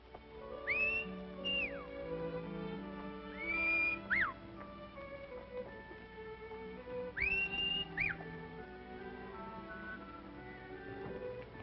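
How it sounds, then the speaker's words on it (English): Sliding whistles sound in three short bursts, rising and falling, over a busy musical background in a 1939 Western film. "I could have sworn I recognized that whistle."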